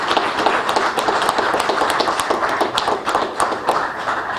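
An audience at a ceremony honouring a military captain breaks into sustained applause, a dense, steady patter of many hands clapping close by that continues throughout.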